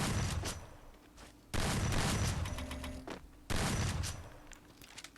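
Gunfire in a mobile shooter video game, rapid bursts of automatic fire in three loud stretches separated by brief gaps, fairly close and harsh.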